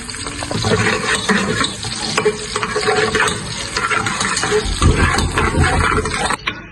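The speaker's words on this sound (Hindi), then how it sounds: "अब मैं इसमें 2 मीडियम ऑनियन प्रेशर कुकर में डाल रहा हूँ।" Two medium onions sizzle in oil inside a pressure cooker while being stirred, a loud close crackling fry with scraping spoon strokes and a burst of sputtering, no voices.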